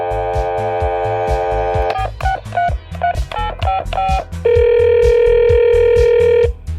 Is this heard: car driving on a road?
no